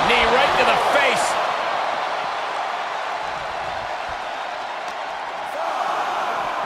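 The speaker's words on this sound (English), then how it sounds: "The sound of this crowd is deafening, and he's asking for more." A large arena crowd at a professional wrestling match roars in a dense, continuous wash of cheering that swells and holds, with a commentator's voice briefly over it near the start.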